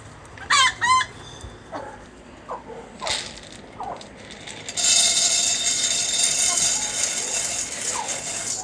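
Backyard chickens clucking and crowing at evening feeding time as hens scratch and kick at thrown scratch grain, sharp bird calls up close early on, then a dense, steady flurry of clucks and scratching that fills the rest of the clip.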